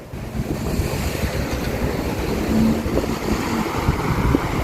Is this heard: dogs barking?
no